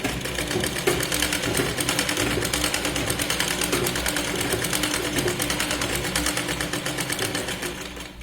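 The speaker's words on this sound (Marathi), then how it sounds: "परत शोल्डरपर्यंत सरळ शिलाई लावत यायचे." A sewing machine stitches a princess-cut blouse, its needle chattering in a fast, steady mechanical run close by, continuous for several seconds before easing off at the end.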